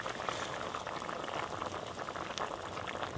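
Steady bubbling and gentle popping of thick crab curry simmering in a clay pot, continuous and close, with no voices.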